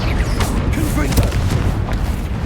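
Confringo explosive spell from the Hogwarts Legacy video game firing amid battle, a thick rolling boom layered with several quick bursts over steady loud background noise.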